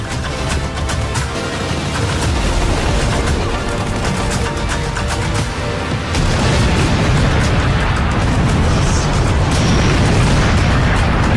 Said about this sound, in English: the railgun can shoot a powerful beam of energy